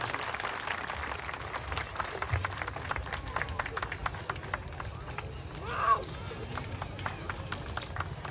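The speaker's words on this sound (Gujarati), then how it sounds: "આપણે તાળીઓના ગડગડાટથી વધાવીએ।" A crowd at a village gathering honouring a revered guest keeps up steady, rhythmic clapping throughout, with talking voices mixed in.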